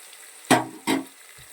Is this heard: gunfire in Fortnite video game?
no